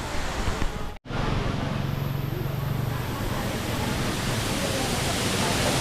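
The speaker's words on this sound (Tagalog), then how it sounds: "So this is the place, Lalita Waterfall." Steady, loud rushing water from Lalita Waterfall in Chiang Rai, Thailand, a continuous broadband roar that fills the scene, briefly cut out once near the start.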